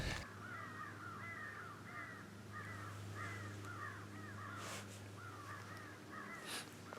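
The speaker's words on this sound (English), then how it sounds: "You can hear the crows going wild over there." Crows caw in repeated bursts of two or three calls, fairly distant, over a steady low hum of outdoor background noise.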